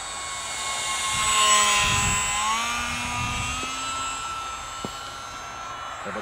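A small UMX Gee Bee R-2 radio-controlled airplane whines past on a flyby outdoors, its thin electric motor tone rising and sliding, moderately distant and faint, with low rumbling background noise.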